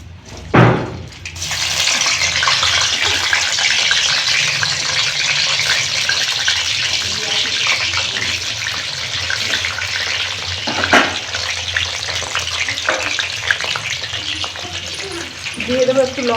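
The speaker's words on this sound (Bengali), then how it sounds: "আলুগুলো একটু ভেজে নিচ্ছি।" Potatoes frying in white oil in a pan, after an initial clatter giving a steady, close sizzle that carries on throughout, with a couple of brief knocks and faint speech in the background.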